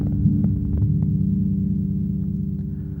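A deep Rickenbacker 4000 bass note played through an Empress EQ pedal sustains with a steady, buzzing low tone, holding evenly for a few seconds with no voices.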